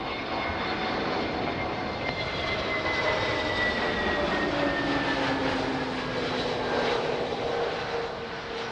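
A jet airliner at Lisbon Airport roars loudly and steadily near runway 02, a dense broadband engine rumble with a slowly sliding whine that shifts in pitch as the aircraft passes.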